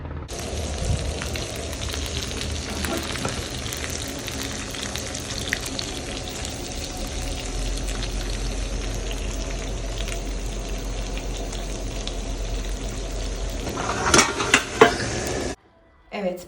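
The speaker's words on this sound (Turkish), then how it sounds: "balık kızartmaya başlayacağım inşallah" Fish sizzles loudly and steadily in hot oil in a pan, with a few utensil clinks near the end.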